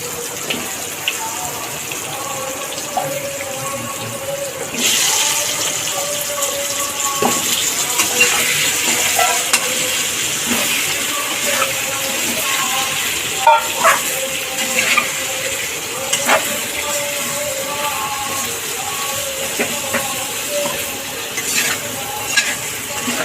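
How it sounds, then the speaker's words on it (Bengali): Potatoes fry in a pan until brown with a loud, continuous sizzle, broken by scraping and stirring sounds. The frying runs steadily close to the listener. "আলুগুলো একটু ব্রাউন কালার করে ভেজে নেবেন"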